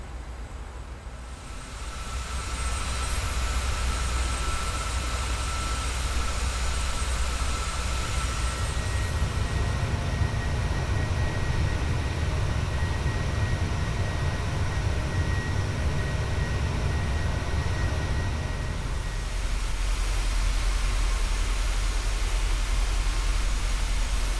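A Boeing 737-800 cargo freighter descends into East Midlands, with a steady, loud broadband roar of jet engines and airflow filling the cockpit and a low rumble that swells in the middle stretch. No one speaks.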